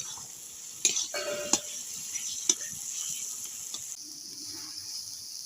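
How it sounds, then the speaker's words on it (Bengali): Spice masala frying for Bengali chicken kosha, with steady sizzle in a pan and a few sharp spoon scrapes and clinks against the metal as it is stirred, close and moderately loud with no talking. "এবার মশলাটা ভালো করে ভেজে নেব"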